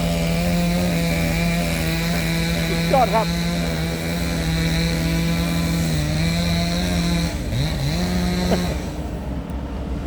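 Chainsaw cutting firewood outdoors near a newly dug pond, a steady loud droning whine with engine pitch dips as the blade bites, while someone speaks briefly over it.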